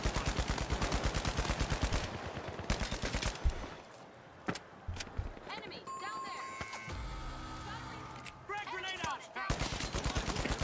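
Gunfire in the first-person shooter The Finals, a burst of rapid shots in the opening seconds followed by scattered single shots and game effects, with players talking excitedly over the action.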